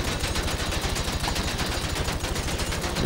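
Advanced rifle in GTA V fired in a long, unbroken automatic burst at a tank, rapid evenly spaced shots that are loud and close, with no talking.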